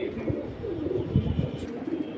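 Pigeons coo softly nearby, low throaty rolling calls repeating over a quiet background.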